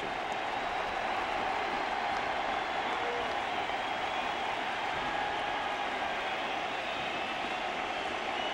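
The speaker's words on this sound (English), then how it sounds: "The crowd rises to its feet as Sammy comes to the plate." A 1998 baseball crowd at Wrigley Field, Cubs hosting the Giants, cheering and applauding as Sammy Sosa comes to bat, a sustained, dense roar of the stadium that holds steady throughout.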